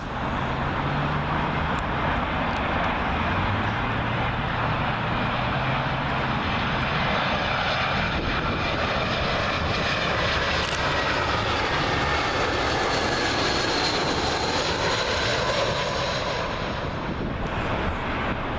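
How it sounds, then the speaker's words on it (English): British Airways Airbus A319 jet landing on runway 27L at Heathrow, arriving from Edinburgh: a loud, sustained roar of engines passing close overhead, with whining tones and a broad rumble that swells and holds steady throughout, no voices. "Up next, British Airways A319. This one from our good friends up at Edinburgh."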